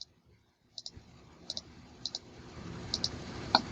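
Computer mouse clicks while working in CAD software, a series of sharp, close single and double clicks spaced irregularly over a low background hum.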